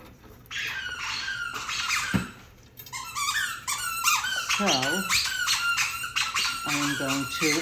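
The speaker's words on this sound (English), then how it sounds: "that is my dog playing with the toy" A dog plays with a squeaky toy, producing rapid bursts of loud, high squeaks in uneven clusters, close by, while a person keeps talking over it.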